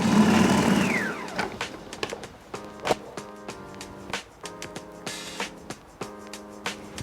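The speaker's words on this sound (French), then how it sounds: "Ajoutez maintenant l'huile tout en continuant de mixer." A food processor whirs loudly for about a second, blending salt cod butter with onion, parsley, chili and lemon juice, then winds down as oil is added. Scattered clicks and knocks of kitchen handling follow.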